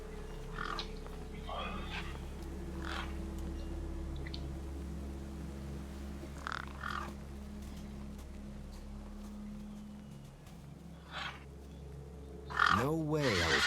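Birds caw in short scattered bursts over a low steady hum in the video game Beyond a Steel Sky, with a couple of louder calls near the end and a voice speaking in between.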